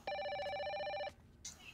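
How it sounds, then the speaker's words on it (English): A telephone rings in a video game: one steady electronic trill of about a second that stops abruptly, followed by quiet room noise. "Phone call."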